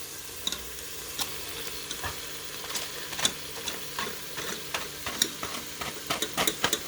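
Peppers sauté on medium-high in a Ninja Foodi with a constant close sizzle, broken by irregular scraping and stirring clicks that grow busier toward the end. No one speaks.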